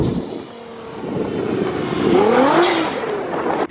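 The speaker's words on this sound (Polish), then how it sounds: "A wy zobaczcie, jak ten samochód strzela z launcha!" A lightly modified Nissan GT-R accelerates hard from a launch-control start on snow, engine note climbing steadily over a rumbling background, loud and close.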